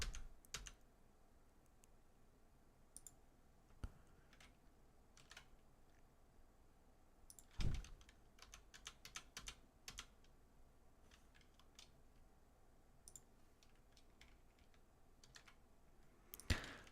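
Single L key on a computer keyboard pressed repeatedly, sharp close clicks in irregular bursts, some quick runs of taps and a few isolated presses, over a very quiet background.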